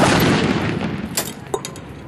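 A WWII-era 75mm M1 pack howitzer firing: a heavy, loud boom that decays into a long rumbling echo, followed by a few faint clanks.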